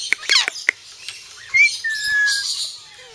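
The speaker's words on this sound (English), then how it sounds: "This is a Leadbetter's cockatoo, also known as the Major Mitchell's cockatoo, from Australia." A Major Mitchell's (Leadbeater's) cockatoo from Australia calls up close, giving a few sharp squawks followed by drawn-out whistling, rising and falling calls, loud and alone at a Cornwall bird park.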